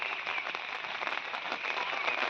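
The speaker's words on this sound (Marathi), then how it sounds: "बघा पाऊस पण इलो" Steady rain patters down on a mango orchard, a dense, even hiss of drops spread across the whole moment with no voices.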